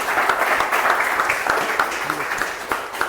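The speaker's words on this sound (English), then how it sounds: "So let's give a huge round of applause to Trilok." Brief round of applause at a Toastmasters club meeting for the organiser, a moderate crowd clapping steadily with a few sharper individual claps over about three seconds.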